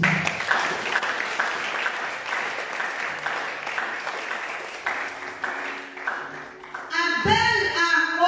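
A church congregation breaks into sustained applause, steady clapping filling most of the stretch before fading near the end, where a brief musical swell takes over.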